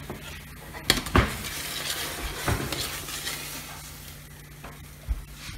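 Eggs cooking in a pan give a soft sizzle under several sharp clanks and scrapes of a utensil against the pan, spaced irregularly and heard up close.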